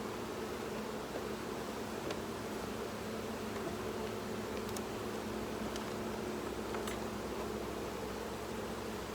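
Dense, steady drone of many young honeybees buzzing off a shaken frame of capped brood during a varroa count, a continuous close swarm hum with a few faint clicks above it and no talk.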